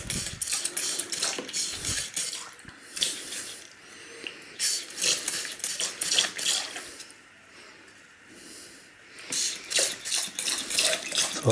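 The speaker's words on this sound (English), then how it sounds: "So it's just a matter of washing off all that gold that you can see." Running water from a tap washing gold off BGA chips, a continuous splashing flow with intermittent clinks and rattles of small parts, rising and falling in intensity, close and fairly loud.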